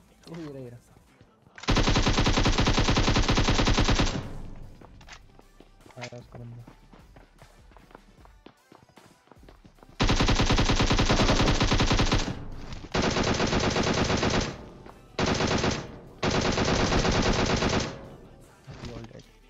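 Bursts of loud rapid gunfire from the video game PUBG, several sustained volleys separated by quieter stretches with a voice talking in between.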